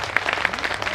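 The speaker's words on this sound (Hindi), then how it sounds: "जोरदार तालियों से अभिनंदन।" Dense, steady applause from a conference crowd welcoming a speaker, loud and continuous with sharp claps throughout.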